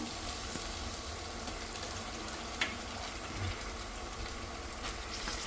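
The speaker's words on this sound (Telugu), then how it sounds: "మనం శుభ్రంగా కడిగి పెట్టుకున్న మటన్ కూడా వేసేసుకుందాం." Washed mutton frying in a pan with ginger garlic paste gives a steady, dense sizzle throughout, with a few faint utensil knocks and no talking.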